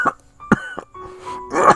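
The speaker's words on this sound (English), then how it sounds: "before exploding into a fit of coughs" A person coughs in a rough fit, several harsh bursts spread over under two seconds, close and fairly loud, with a strained throaty sound between the bursts.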